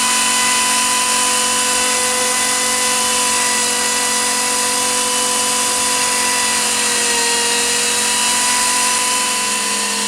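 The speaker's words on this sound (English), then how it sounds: "Then I'm going to cut the 3 lobes that'll be the top of the finial." Steady high-pitched whine of a lathe turning a centerless wood finial as its three top lobes are cut, loud and continuous with a slight pitch dip near the end, no voices.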